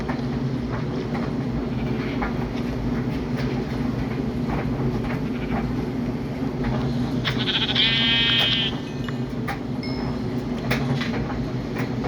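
A single sheep bleats briefly midway through in Minecraft Bedrock Edition, set against a constant low rumbling background drone.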